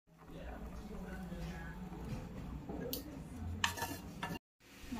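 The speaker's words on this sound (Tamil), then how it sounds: "கொஞ்சம் மிளகுத்தூள் சேர்த்துட்டு கொஞ்சமா டொமேட்டோ சாஸ் சேர்த்துக்கலாம்." Pepper and tomato sauce mixture stirred in a pan, a steady scraping and clinking of a utensil against metal with faint sizzling underneath, broken by a brief clatter and a short gap near the end.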